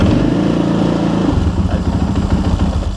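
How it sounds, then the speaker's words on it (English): A KTM motorcycle engine cranking and catching, with a steady starter-like churn that changes at about 1.3 seconds into a loud, irregular idle rumble close by; the bike is starting poorly. "Turn the key on. It cranks over. The spike's not starting all that well for some reason."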